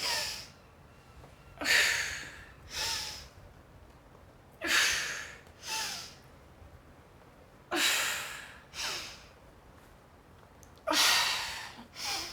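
A person in an abs and core workout breathes forcefully while bracing, with sharp exhales at irregular intervals separated by quiet pauses, close to the microphone.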